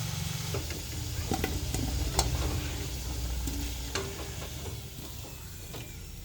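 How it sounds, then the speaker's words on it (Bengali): Bay leaf and dry red chilli tempering frying in hot oil for a mutton curry, a steady broadband sizzle with scattered crackles and pops throughout, close and continuous with no talking. "ফোড়ন, তেজপাতা, শুকনো লঙ্কা তেলের ওপর"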